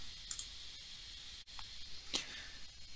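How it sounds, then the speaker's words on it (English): A few faint, sharp computer mouse clicks in a quiet room as edits are saved in ArcGIS Pro, spread across a few seconds with no talking. "And we'll click save"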